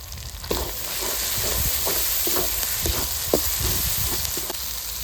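A paste of cumin, coriander, green and dried chilies and pepper fries in oil with garlic, giving a continuous close sizzle broken by scattered scraping and clicking stirring sounds.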